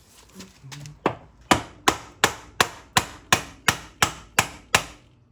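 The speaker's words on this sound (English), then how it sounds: "tap the end here with a hammer to try and force the axle in" A hammer taps the end of an axle on a 2004 Polaris Scrambler 500 about a dozen times in a steady, even rhythm, each metal strike sharp and close, after a few softer handling sounds.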